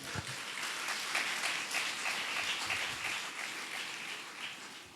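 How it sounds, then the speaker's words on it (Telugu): A congregation at a Christian sermon bursts into sustained applause, a dense steady wash of many hands clapping together that holds evenly for several seconds and tapers slightly at the end. "చప్పట్లు కొట్టండి అందరూ ఒకసారి"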